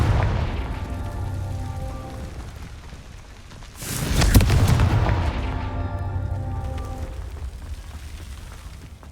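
A Confringo fire spell blast in the game Hogwarts Legacy lands as one heavy booming burst midway through, rising out of a steady low ambient hum and music.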